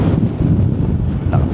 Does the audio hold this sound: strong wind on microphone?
yes